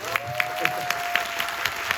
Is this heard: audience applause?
yes